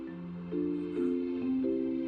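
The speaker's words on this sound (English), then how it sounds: "The piece of music itself is just something I've got from Epidemic Sound" Soft royalty-free instrumental music for a castle water display in the Planet Coaster game, with sustained tonal chords that shift upward in steps, quiet and smooth, with no voices.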